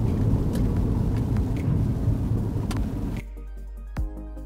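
BMW 520i Luxury 2018 sedan cornering on a road, a steady broadband engine and tyre rumble from inside the car for about three seconds before the sound cuts to near quiet.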